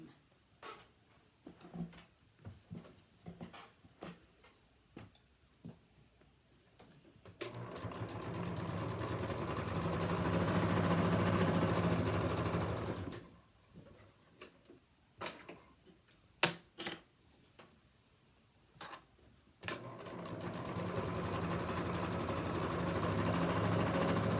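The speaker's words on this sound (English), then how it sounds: "I'm going to go to my machine and I'm going to stitch this edge and this edge" A home sewing machine stitches the small hemmed edges of a pleated fabric face mask, with two sustained runs of steady motor whirring and needle clatter separated by quiet handling clicks and short bursts.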